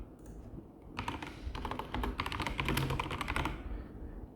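Someone types a task name on a computer keyboard, a quick flurry of close, crisp key clicks lasting a few seconds in a quiet room.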